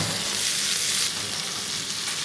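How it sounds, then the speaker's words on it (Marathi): Mustard seeds, cumin and onion sizzle steadily in hot oil for a chilli bhaji tempering, a dense continuous crackling hiss close up with no voices. "तेल खूप छान गरम झालं असल्यामुळे मोहरी आणि हे तडका लगेच सुरू झाला।"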